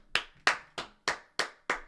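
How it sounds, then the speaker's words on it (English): Fake clapping sound effect: six crisp, evenly spaced claps, close and dry, each sharp hit decaying quickly, with no voices. "that doesn't deserve a fake clap"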